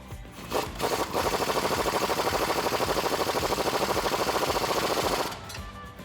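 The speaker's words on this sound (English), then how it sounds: "Now we'll tighten up that shock bolt." A power tool, most likely an impact wrench, drives home a shock bolt on a Jeep Wrangler JK during a lift install, giving about four seconds of steady rapid hammering with a sharp stop. It is close and loud, with no talk.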